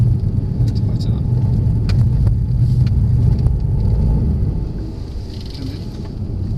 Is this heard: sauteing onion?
no